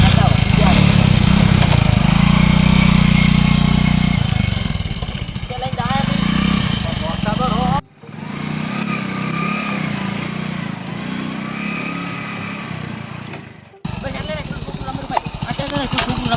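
A nearby motorcycle engine runs steadily with a low rumbling drone through most of the stretch, cutting out briefly in places, while people talk loudly over it.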